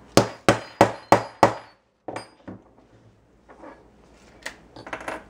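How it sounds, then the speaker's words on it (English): A hammer strikes a snap setter on an anvil while installing snaps on stormtrooper armor: five sharp, evenly spaced metallic whacks, followed by a few lighter taps and faint clinks. "Going to hit about 4 or 5 good whacks on the anvil."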